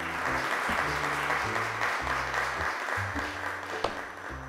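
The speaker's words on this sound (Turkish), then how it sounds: "İkinci arkadaşım Belinay'ı alkışlarla davet ediyorum." A studio audience applauds steadily on a Turkish children's television show, welcoming a young girl onstage; the clapping is dense and sustained throughout, with faint voices beneath it.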